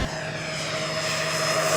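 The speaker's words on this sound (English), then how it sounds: "Ghost Rider requesting a flyby." A Freewing F-14 Tomcat 80mm electric ducted-fan RC jet roars past in a sustained, loud flyby, with a steady high whine and a broadband rush that swells toward the end.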